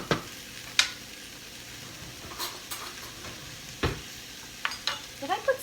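Curry powder sizzles in a pan for a vegan coconut curry, a soft steady frying hiss with scattered scrapes and taps of a spoon stirring, clustering toward the end; no speech.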